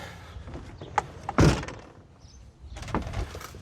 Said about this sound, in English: Can I get the door shut?